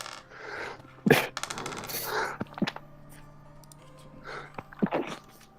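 One sharp, suppressed sneeze bursts out during a tabletop role-playing game session, followed by quieter breathy sounds and a few soft voices nearby.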